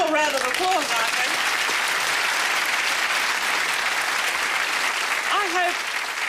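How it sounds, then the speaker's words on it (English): A studio audience at a 1987 television talk show applauds loudly and continuously, with sustained clapping and a few voices rising through the crowd noise. "Oh, a little round of applause, I think."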